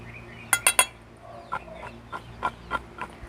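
Spoon clinking against a pan while okra sabzi is stirred, a quick cluster of three sharp metallic taps followed by several softer, evenly spaced knocks, close and alone.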